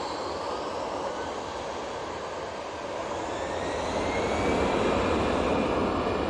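An Etihad airliner on final approach to Manchester Airport gives a steady, loud jet roar with a thin engine whine running through it, swelling slightly toward the end.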